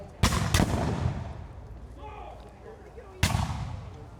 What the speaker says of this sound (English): Spanish muskets are getting ready to return fire.